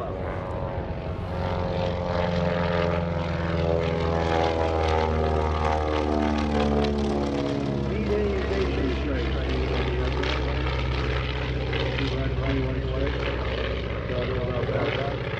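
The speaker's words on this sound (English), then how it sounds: "C-45 coming in from the left." A C-45 propeller airplane drones overhead at a World War II airshow, its engine pitch sliding slowly as it passes, loud and steady throughout the whole stretch.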